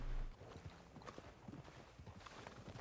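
A horse walks on hooves in Red Dead Redemption II, giving a clear, regular clip-clop close by, moderately quiet, after a brief low thump at the start.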